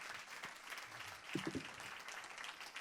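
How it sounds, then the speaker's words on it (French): Applause from an audience at an anniversary ceremony celebrating the 30th year of IUT Jean Moulin Lyon 3, a steady, moderately faint patter of clapping filling the room throughout. "Merci, je crois qu'on peut applaudir."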